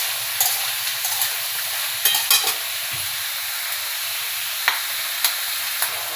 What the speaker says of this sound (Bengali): ভালো করে চিনে বাদামটা ভেজে নিচ্ছি